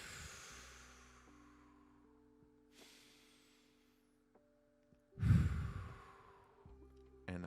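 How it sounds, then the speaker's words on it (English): Deep, slow breathing close by: long airy sighing exhales with quiet pauses, ending in one loud heavy breath out during a relaxed morning session. "deep breaths."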